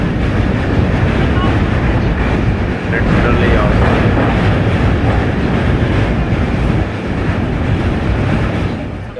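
A passenger train rolls through a large railway yard near Mughal Sarai (Pandit Deen Dayal Upadhyaya) junction, a loud continuous rumble with clattering wheels heard from onboard, while someone talks briefly over it.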